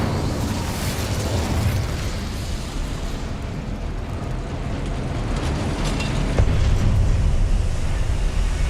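The Incendio fire spell in Hogwarts Legacy gives a dense, continuous roaring blaze that stays loud and steady throughout and swells slightly near the end, with no talking.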